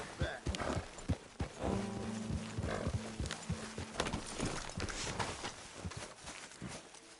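Horse hooves clip-clop in Red Dead Redemption 2 as the red horse is brought out, a steady walking rhythm of close knocks over a busy game soundscape with brief tonal hums.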